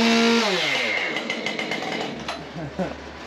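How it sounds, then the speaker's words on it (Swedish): A motor saw is revved hard for testing, its loud whine dropping away within the first half second, followed by low idling rumble and scattered knocks and voices. "Du är lite stissig med den där sågen."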